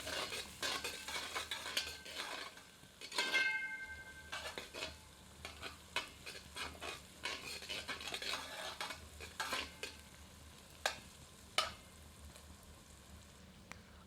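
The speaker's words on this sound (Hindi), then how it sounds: "अब इसमें कुटे हुए अदरक, लहसुन और हरी मिर्च सम्मिलित करते हैं। मिलाकर 3 से 4 मिनट मध्यम आंच पर भूनते हैं।" Crushed ginger, garlic and green chili stir-fried over medium heat in a copper pot, with soft crackling sizzle and repeated scraping, clinking utensil strokes at an irregular rhythm, close and fairly quiet, no voices.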